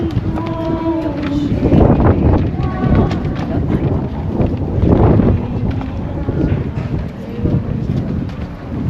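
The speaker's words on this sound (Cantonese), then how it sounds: "大風吹住個頭啊！" Strong wind buffets the microphone with a loud, continuous low rumble during an outdoor Corpus Christi procession, and voices are heard in the gusts.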